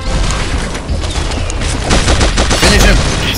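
An assault machine gun fires in the mobile shooter game Pixel Gun 3D: loud, rapid automatic bursts with booming impacts pile up continuously for a few seconds, close and dominant.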